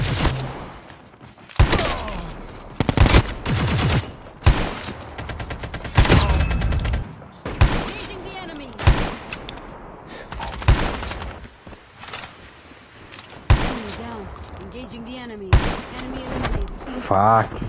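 Repeated heavy shotgun blasts in the mobile shooter Call of Duty Mobile, loud booming shots spaced a second or two apart over about eighteen seconds, with a player talking between them.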